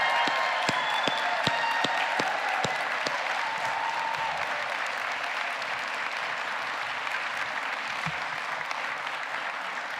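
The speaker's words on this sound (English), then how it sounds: "Thank you for that thunderous applause." Loud, sustained applause from a large audience at a university doctoral hooding ceremony, with a dense wash of clapping lasting throughout and a few sharp individual claps standing out early on.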